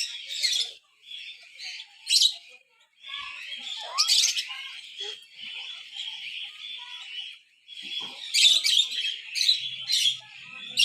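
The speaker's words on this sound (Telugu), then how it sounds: "ఇదిగో బర్డ్" Birds chirp and tweet in bursts at Tirupati's Sri Venkateswara Zoological Park, with bright repeated calls that come and go across the clip and a busy stretch of overlapping song near the end, and no talk over them.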